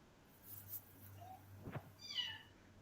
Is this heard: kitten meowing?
yes